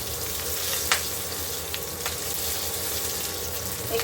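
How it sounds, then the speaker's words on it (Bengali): Potatoes fry in a pan over lowered heat, a soft, steady sizzle and crackle with a few small pops and stirring clicks, heard alone at low volume. "আলুগুলো দিয়ে দিচ্ছি। এবার একটু এগুলোকে ভেজে নেব,"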